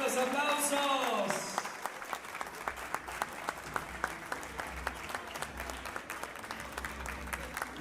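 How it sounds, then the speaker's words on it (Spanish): Sustained applause from an audience at a community celebration at a Hungarian society hall, steady dense clapping that continues after a brief stretch of loud speech at the start. "Fuerte los aplausos, fuerte los aplausos."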